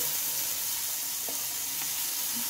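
Chopped tomato hisses and sizzles in a hot pan of oil and turmeric while being stirred, giving a steady dense fry with a couple of faint scrape clicks, close and continuous with no talking.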